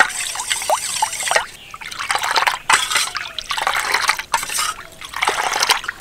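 A spoon stirs a cooled sweet yogurt mixture for misti doi in a bowl, making repeated wet, sloshing strokes with short pauses between them, close and fairly loud.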